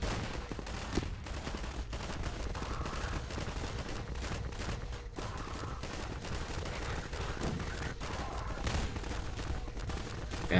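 Dense, continuous gunfire from an SMG and other weapons in the Garry's Mod video game during a fight against a strider. It sounds like a steady, loud barrage of rapid shots that runs the whole time, with no talk.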